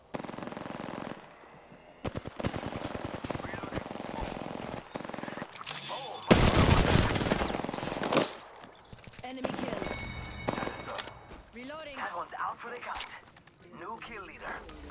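Automatic gunfire rattles in Apex Legends as the player comes under attack, with rapid bursts, sharp single shots and a louder blast midway, mixed with game effects while a person talks over it.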